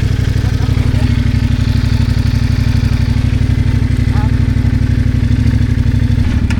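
An overheating motorcycle engine idles at 120 degrees during a breakdown in the Serra da Estrela, Portugal, its steady low thrumming putter loud and close for the whole stretch with no voices.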